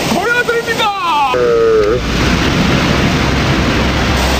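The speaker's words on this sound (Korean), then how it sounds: "자, 여기가 바로 구룡폭포입니다" Guryong Falls, a 30 m waterfall sliding down gently sloping rock, gives off a loud, steady roar of cascading water; a voice speaks briefly over it at the start before the rushing continues alone.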